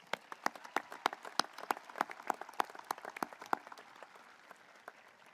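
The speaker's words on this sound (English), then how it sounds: "Let's give them a round of applause." Scattered audience applause at a high school commencement ceremony, with distinct individual claps from a modest crowd heard fairly far off, starting brisk and thinning out toward the end.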